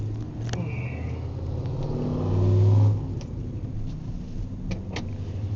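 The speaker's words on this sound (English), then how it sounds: "We're gonna crank it over, or at least we're gonna see what it does while he's depressing the Schrader valve." Starter cranking the engine of a 1994 Ford F150 with a no-start problem, a steady mid-pitched churning that swells briefly, close and moderately loud, with a few clicks.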